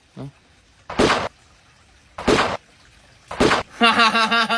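A perfume atomizer gives three short hissing sprays, each a burst of fine mist, separated by pauses, followed by a brief buzzy rattling sound at the end.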